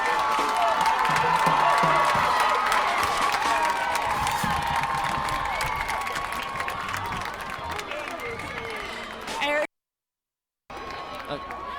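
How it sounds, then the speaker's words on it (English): Spectators at a varsity high school football game cheer loudly, a dense continuous roar of shouts that fades slightly toward the end, with a short dropout before it resumes; a commentator's voice is heard over it. "the crowd has never been louder this season"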